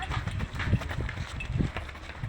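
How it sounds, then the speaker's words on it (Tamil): Horse hooves clip-clop in a steady, fairly close rhythm as a horse breaks into a run during a first riding lesson, the beats quick and even against light background noise. "குதிரை ஓட ஆரம்பிச்சிருக்கு."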